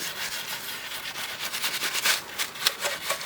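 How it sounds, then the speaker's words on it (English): Steel wool scrubs a dirty BMW E36 M3 mirror part in quick repeated rasping strokes, close and moderately loud, the rhythm quickening toward the end. "So you do literally take a steel wool, you scrub it."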